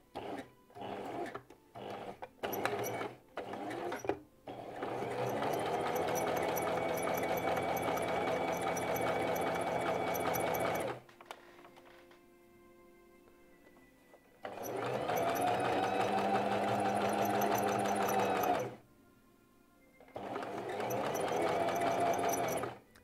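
Domestic sewing machine stitching the long seams of a shirt-style blouse, running in steady motorized bursts: several short stutters, then long continuous runs separated by brief pauses, close and clear with no talking.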